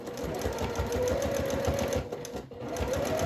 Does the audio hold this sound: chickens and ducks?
no